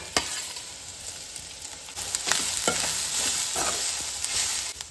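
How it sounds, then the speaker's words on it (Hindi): Garlic and freshly grated coconut frying in a pan on a gas stove, a steady close sizzle with scattered crackles and occasional stirring scrapes, no voices. "लहसुन डालकर जो है ना 1-2 मिनट के लिए इसे हम फ्राई करेंगे"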